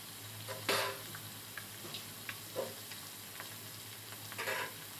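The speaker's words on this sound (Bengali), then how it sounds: "এখন মাছ ভাজা আমি দিয়ে দিচ্ছি। প্রথমে আইকন মাছগুলো ভেজে নিব।" Ikon fish crackle in hot oil in a kadai, a faint, low sizzle with scattered sharp pops and spatters across the clip, with no voices.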